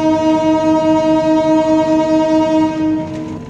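KA Singasari passenger train at Cikampek station in Karawang, with a loud sustained multi-tone horn blaring steadily for over three seconds before easing off slightly at the end.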